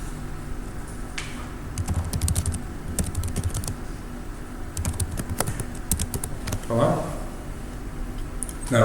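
Computer keyboard typing comes in bursts of quick clicking keystrokes with short pauses between runs, close and moderately loud, while a person talks intermittently.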